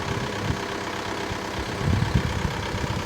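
A Kubota 5502 4x4 tractor engine runs steadily at idle nearby, a constant low rumble with a slight swell toward the end and no voices.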